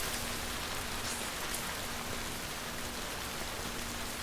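Rain in the video game Death Stranding, an even, steady hiss of falling rain with faint drop patter, constant throughout with no speech.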